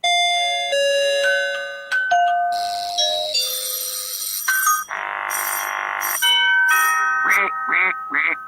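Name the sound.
doorbell ringing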